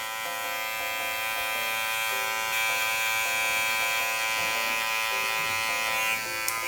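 Electric hair clipper buzzing steadily at close range as its blade cuts a fohawk mid fade, a continuous even hum with slight shifts in pitch as the blade moves across the head.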